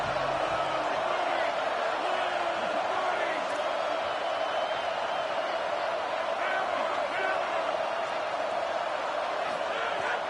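Roaring stadium crowd in an NCAA college football video game, Texas versus Nebraska, builds steady energy on a big third down, a dense continuous wash of cheering with a commentator talking over it.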